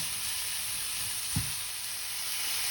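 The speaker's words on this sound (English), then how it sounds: "You can hear that lovely sizzle." Steady broadband sizzling from vegetables frying in a pan with a little water, continuous and close, with a brief low thump partway through.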